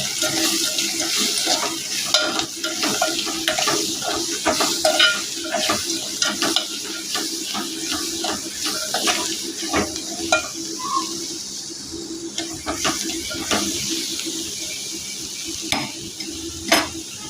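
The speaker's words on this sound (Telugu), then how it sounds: "పసుపు, బెల్లం వేసుకొని బాగా కలుపుకోవాలి." Turmeric, chili powder and jaggery are stirred into a pot of bitter gourd tamarind stew, with repeated close scraping and clinking of a spoon against the pot over a steady bubbling sizzle, with no voices.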